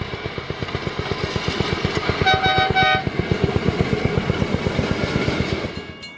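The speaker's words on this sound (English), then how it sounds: "The train is chased by a pair of speeders." Virginia & Truckee steam locomotive chugging close by in a fast, steady rhythm of exhaust beats, with a whistle blast in the middle as rail speeders follow the train; the chuffing fades slightly toward the end.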